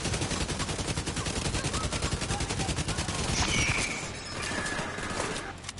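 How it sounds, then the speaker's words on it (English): Dense, rapid gunfire rattles continuously for several seconds, loud and close, like automatic weapons firing in the video game Division 2, with a brief shift in tone near the end. "there was too much gunfire"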